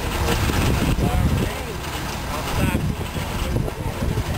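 A running engine from a real 1966 police car at a classic car show, idling as a steady broadband rumble with some wind noise, while people talk nearby.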